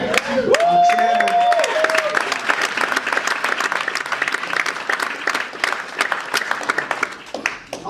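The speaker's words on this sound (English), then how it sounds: "every single time I do this presentation, you know, and there's always a round of applause" A live audience at a UK launch event bursts into loud, sustained applause for the company chairman, the clapping and cheering of the crowd filling the room steadily before tapering off near the end.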